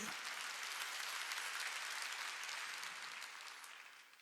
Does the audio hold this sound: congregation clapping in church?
yes